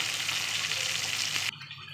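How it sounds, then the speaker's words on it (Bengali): Rohu fish pieces sizzle steadily as they fry in hot oil for Bengali fish curry with vegetable stems, a loud, dense crackle that cuts off abruptly near the end, leaving quiet background. "এখানে আমি রুই মাছ ভেজে নিচ্ছি"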